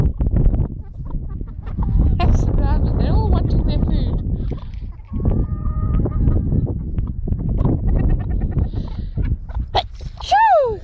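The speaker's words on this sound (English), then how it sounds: "There's a rooster attacking my legs again." A rooster clucks and gives short, rising calls close by, mixed with a person talking and outdoor rustling.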